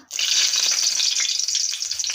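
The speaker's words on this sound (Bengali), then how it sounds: "এখানে কড়াইতে তেল গরম হয়ে গেছে, আমার আগেই একটু কালো জিরা ফোড়ন দিলাম" Black cumin seeds tempering in hot oil in a wok give a loud, steady sizzle that bursts in after a brief silence and crackles on without a break, with no voices.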